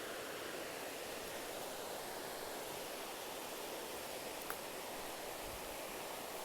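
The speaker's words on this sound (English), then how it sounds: "There's a pretty big river down there that we've kind of been following." A big river flows somewhere below a forest trail, heard as a steady, broad rushing hiss that stays even and unbroken throughout, with no voices.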